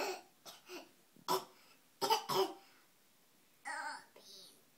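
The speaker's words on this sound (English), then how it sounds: "Coughing." A small child coughs several times in short bursts, with some babbling and throat-clearing sounds between the coughs, close and fairly clear in a quiet room.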